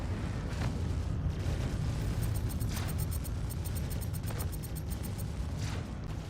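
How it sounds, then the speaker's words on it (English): Missile striking a spaceship in Star Citizen, a muffled boom with rumbling debris and crackling bursts, followed by a quick series of sharp high clicks, all at moderate volume. "we got hit by 1 missile"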